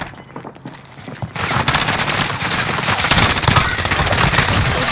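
Rapid automatic gunfire rattles in a Warzone Rebirth quads match, starting after a quieter moment and then running as a dense, loud, continuous burst of shots.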